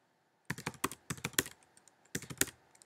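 A password is typed on a computer keyboard in two quick bursts of crisp, close key clicks with a brief pause between them.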